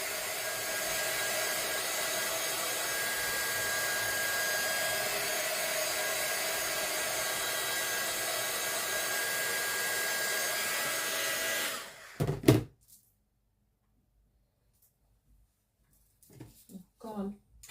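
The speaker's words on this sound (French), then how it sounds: "Vous entendez le bruit du séchoir? Enfin, du séchoir, du heat gun." A heat gun blows hot air over a paper collage page, a loud, steady whirring roar for about twelve seconds before it cuts off, followed by a few quiet knocks and a brief voice.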